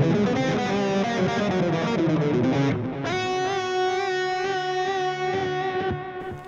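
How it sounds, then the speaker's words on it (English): A broken tape echo effect from the Blue Cat Audio Axiom plug-in processes a sustained distorted, chorused instrumental tone, with smeared repeats that shift into brighter layered harmonics midway and ring on to the end. "Start with a broken tape echo."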